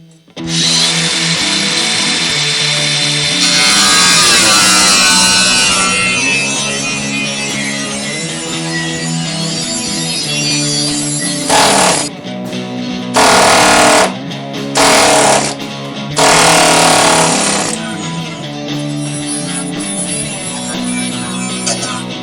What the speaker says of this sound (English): drilling out all these spot welds. You can see the drill marks, and then trying to separate those with the air hammer.